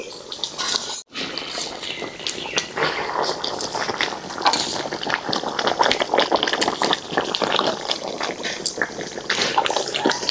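Desi village-style chicken curry with potatoes bubbles and sizzles in an uncovered pot, a steady crackle of small pops and drips, close and moderately loud throughout.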